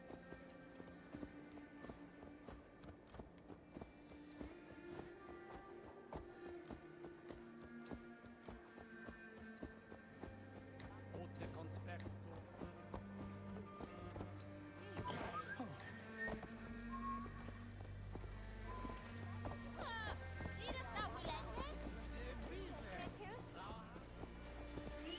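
Hooves of a horse galloping in the video game Assassin's Creed Valhalla, a steady rhythmic clip-clop running under game music and ambience, growing heavier and louder in the second half.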